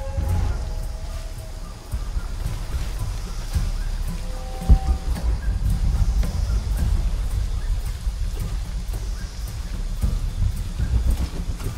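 Steady rain pattering and hissing across surfaces in the Shadow of the Tomb Raider video game, a continuous wet wash with a low rumbling bed and a brief louder knock partway through, no voices.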